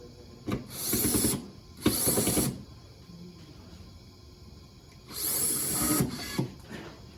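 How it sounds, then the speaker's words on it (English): An Ingersoll Rand torque gun tightens a bolt on a smart factory line in bursts: two short whirring runs early, then a longer run later, with quiet machine hum between. "they're going to use the torque gun to tighten the bolt"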